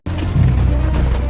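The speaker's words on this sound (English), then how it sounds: "Explosions rock the city." Explosions in a city at the start of the Tet Offensive in Vietnam, heard as a sudden loud boom that rolls into a sustained, dense rumble of blasts and crackling fire.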